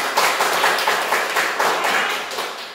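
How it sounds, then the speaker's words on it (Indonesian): A class claps hands together at the close of a lesson, a dense patter of mixed claps held at steady loudness for nearly three seconds before tapering off slightly. "Baik, tepuk tangan untuk semuanya."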